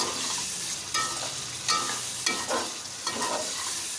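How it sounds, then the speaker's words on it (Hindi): Tomatoes and green chili sizzling in a pan for chicken biryani, a steady close fry with several scraping stirs of a spoon against the pan. "ठीक, इसको थोड़ा अच्छे से मिक्स कर लेंगे। टमाटर हमारे अच्छे से भुन जाएंगे।"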